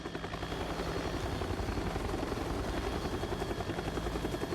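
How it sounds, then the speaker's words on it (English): A helicopter in the Tekken 6 video game drones steadily, its rotor chopping in a fast, even pulse that stays loud and close the whole time. "Definitely land a helicopter there."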